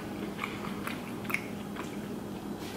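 Someone eats lobster tail from a seafood boil, soft wet chewing with a few crisp bites popping out over steady close-up mouth sounds, no talking.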